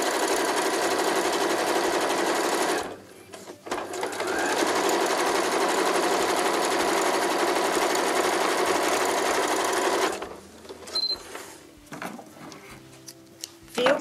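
A sewing machine runs a straight seam along a zipper using a presser foot as a guide, its rapid mechanical whirr steady and close for several seconds, pausing, then running again before stopping with a few clicks.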